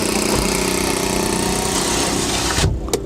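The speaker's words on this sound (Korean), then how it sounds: "저 오토바이 도대체 공회전이 몇인데 저렇게 시끄럽지?" A motorcycle idles loudly and steadily nearby on a street in Djerba, Tunisia, its rough throb continuing until it cuts off near the end.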